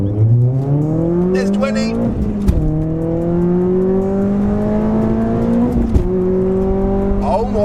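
A Renault Clio RS 197 hatchback accelerating flat out, its engine note rising steeply through the revs with a few crisp gear changes and brief dips, loud and close from inside the car, with a voice saying a couple of words.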